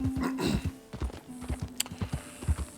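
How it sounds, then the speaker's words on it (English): Hoofbeats of a white Arabian horse in Red Dead Redemption 2, a run of dull, rhythmic clip-clop steps close by, with a brief snort or whinny-like tone near the start and scattered higher clicks. "She's the white Arabian horse that I talked about a little bit."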